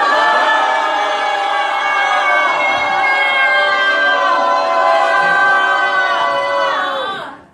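Crowd at a patriotic rally and prayer meeting raising a loud, sustained cheer and shouting while waving flags, a dense wall of voices holding steady for several seconds before trailing off at the end.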